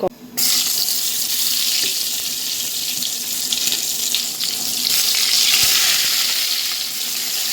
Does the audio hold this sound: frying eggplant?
yes